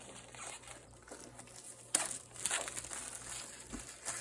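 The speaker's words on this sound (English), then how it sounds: "It's just gotta get the plastic off first." Plastic wrapping pulled off a new sketchbook, close by and fairly quiet, with soft crinkling through the clip and a few sharper crackles toward the end.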